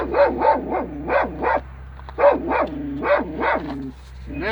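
Dogs barking at a horse, about seven loud, close barks in two bursts with short pauses between them and no talk over them.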